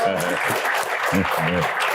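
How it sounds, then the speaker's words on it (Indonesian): An audience at a Q&A event claps steadily in a dense, continuous round of applause, with someone speaking over it. "Tepuk tangan untuk Mas Soleh Solihun."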